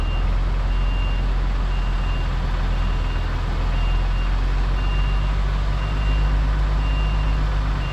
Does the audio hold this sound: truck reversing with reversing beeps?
yes